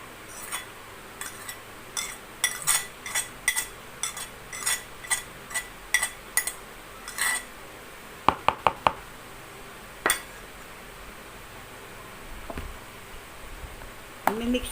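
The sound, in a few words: mixing carrots and cheese in a bowl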